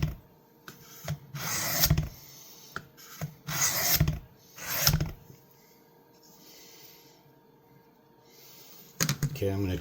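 A Camillus TL-29 knife blade is drawn across a sharpening stone in several bursts of gritty rasping, with pauses between strokes and a few light knocks, all close and fairly quiet.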